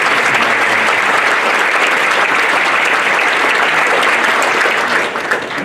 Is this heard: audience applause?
yes